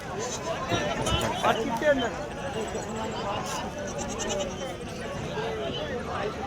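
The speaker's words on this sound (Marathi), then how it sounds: "चांगल्या क्वालिटीची बकरी आहे मित्रांनो" Goats bleat repeatedly against a busy, noisy background of the Rajur livestock market while people talk nearby.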